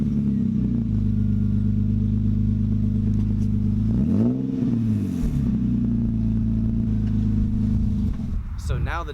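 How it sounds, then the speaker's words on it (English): Nissan 350Z VQ35 V6 with a muffler-delete exhaust, loud and close, droning at steady idle-like revs with a brief rev rise and fall around the middle before settling back. "So this is what the muffler delete on the VQ35 sounds like."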